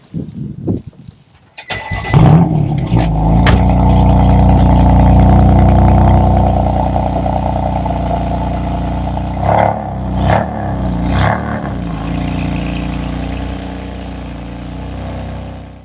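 The engine of a BMW M3 F80 track car cranks and fires with a sharp start, then settles into a loud, rough idle with a few throttle blips, close up.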